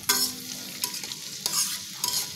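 Chopped onion frying in a generous amount of oil in a karahi wok, with a steady close sizzle and a few sharp bursts of stirring scrapes.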